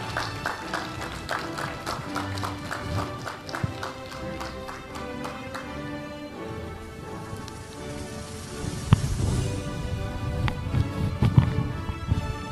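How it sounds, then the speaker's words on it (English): A church congregation applauds during a Sunday morning service, a dense patter of many hands under music with a sustained tone, building slightly toward the end, with voices heard now and then. "Give them a round of applause."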